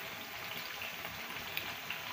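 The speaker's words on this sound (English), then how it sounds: "I'm actually frying the last batch now." A soft, steady sizzle of unripe plantain chips frying in hot oil, with occasional small pops over a constant hiss.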